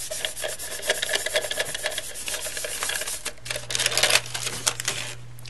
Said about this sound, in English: just get some deli paper and smooth it